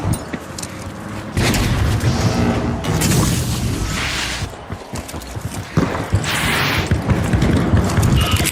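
Frag grenade blast in the shooter game The Finals: a loud, heavy boom that rumbles on for several seconds, with debris and further crashes following close behind.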